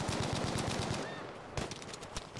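A Bren light machine gun in Battlefield V fires a rapid, steady burst of loud, close shots for about a second. After a brief gap, a few more scattered shots and impacts follow, with no talking.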